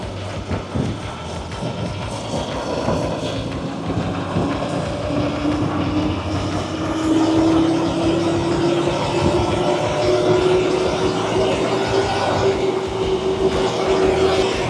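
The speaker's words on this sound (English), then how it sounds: "rev the engine up to approximately 1500 RPM or higher" A Keestrack stacker engine runs steadily and its pitch climbs slowly as it revs to about 1500 RPM, with rough wind-like rumble throughout and no voices.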